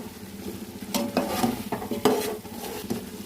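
Chicken being stirred in a pot with garam masala and biryani masala for dum biryani, giving a steady close scraping and stirring with soft sizzling and a few sharper spoon knocks against the pan.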